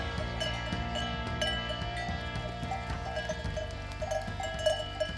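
Rove goats on a scrubby hillside pasture, a steady jumble of livestock noise with bells clanking and hooves shuffling close by, and the occasional bleat rising from the herd.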